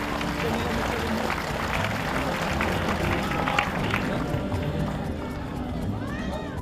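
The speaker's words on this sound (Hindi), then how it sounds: "जोरदार तालियां हो जाएं।" Dense, loud applause from a crowd honouring a five-time Mr India bodybuilder at a stage event. The clapping is a continuous roar, with voices mixed in.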